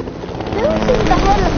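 A steady, whirring rotor rumble from a helicopter in a video game runs throughout at moderate volume, with voices talking over it.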